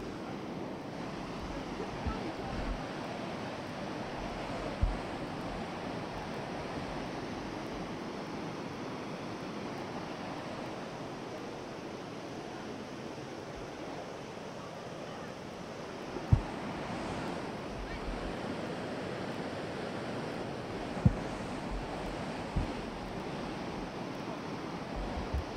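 Hukou Waterfall in winter, its icy gorge hung with ice, sends up a steady, broad roar of falling water that holds even for the whole stretch, with a few faint thumps and buffets of wind on the microphone.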